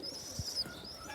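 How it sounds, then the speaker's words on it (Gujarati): Domestic pigeons kept at home give a soft, low coo near the middle, faint against a quiet background hiss, with no talking. "2 કબૂતર હે ને બોલે છે"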